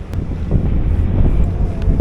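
Loud, blustery wind at a Boracay beach buffeting the microphone with a low rumbling roar throughout, no voices.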